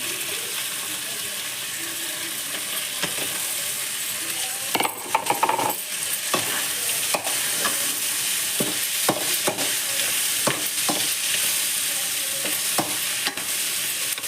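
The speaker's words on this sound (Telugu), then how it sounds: "ఇప్పుడు ఇందులోనే వేసి పెట్టుకున్న బెండకాయ తీసుకున్నాం." Okra sizzles in oil in a pan, a steady crackling fry close by, with a spoon scraping and clinking against the pan as it is stirred.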